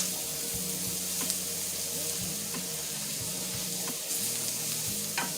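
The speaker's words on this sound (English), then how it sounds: "Let the flour cook a little bit with the vegetables." Flour cooking with mixed vegetables in a pan, giving a steady close sizzle with occasional stirring scrapes and light clinks throughout, no voices.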